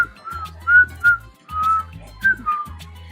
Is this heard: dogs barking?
no